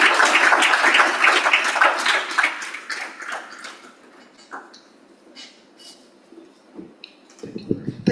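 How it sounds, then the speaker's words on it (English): An audience at an Abuja chapter technical and business meeting claps for Dr. Mrs. Eunice Ajayi, the applause loud at first and then thinning into scattered, faint claps and small knocks. "Please, a round of applause for her."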